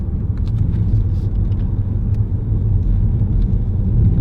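A 2019 Ford Focus ST-Line in sport mode gives a deep, steady engine rumble heard from inside the car, loud and continuous with no talk.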